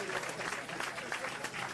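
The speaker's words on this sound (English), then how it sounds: "Give him a round of applause for that." Brief burst of audience applause at a lecture event, dense even clapping filling the short stretch with some voices mixed in.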